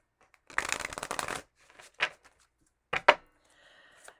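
Oracle cards being shuffled by hand, a near riffle-like rustle lasting about a second, then a few quiet separate taps and card slaps in an otherwise silent room.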